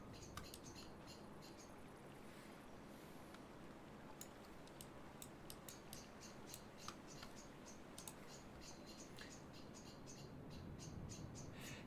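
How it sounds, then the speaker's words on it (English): Birds chirping outdoors, heard faintly through a window during a World of Tanks gaming stream: repeated thin high tweets scattered over a steady background hiss, quiet and distant with no talk. "I was just thinking those birds are really loud."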